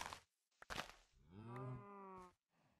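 Cows in the video game Minecraft let out a clear, drawn-out moo, preceded by a couple of short bursts and followed by quiet, with no talking.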